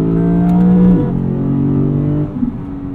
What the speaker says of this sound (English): Little burble from the exhaust back there. I'm surprised at how much louder it is in sport mode.